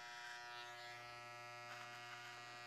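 An electric razor buzzes steadily and faintly while shaving up along a sideburn during a classic business haircut, a thin even hum with no talk.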